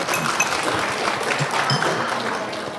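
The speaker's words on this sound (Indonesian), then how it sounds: "Nah, itu sudah tepuk tangan" Hands clapping steadily through a lecture hall crowd at an Islamic religious talk, a dense, continuous patter that holds at an even level, with faint voices mixed in.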